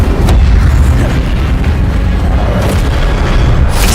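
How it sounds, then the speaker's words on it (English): An Incendio fire spell cast in Hogwarts Legacy: a loud, continuous, roaring boom of fiery blast that fills the moment with heavy low rumble and crackling bursts. "Incendio."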